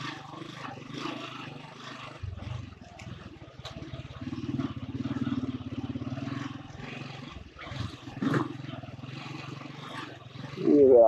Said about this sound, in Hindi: मैं सोच रहा था कौन सी बाइक, उसके साउंड से पता लगा कि वन टू फाइव है